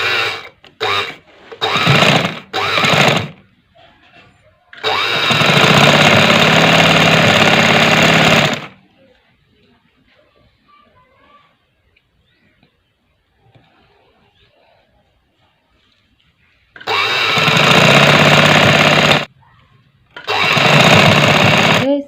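Sewing machine stitching shuttle lace onto fabric, loud and close, with a few short rapid bursts, then a long steady run, a quiet pause, and two more sustained runs.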